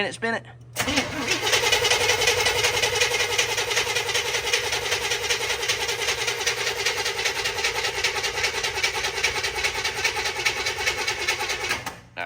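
A squarebody truck engine cranks over continuously on the starter for about eleven seconds without catching, loud and close, with a steady whirring churn and no fuel yet reaching the carburetor.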